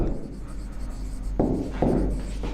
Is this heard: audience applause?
no